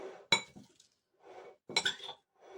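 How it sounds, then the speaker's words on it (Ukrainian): Cabbage and cucumber salad being stirred with salt in a bowl, giving two bursts of clinking utensil-on-dish scraping and clatter with quieter rustling of the vegetables between, close and alone. "перемішуємо, щоб сіль трошки розчинилась"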